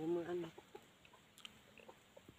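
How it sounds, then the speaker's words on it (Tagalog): A chicken clucks loudly at the start, followed by scattered faint clucks and soft background noises. "Yan yung malaking manok."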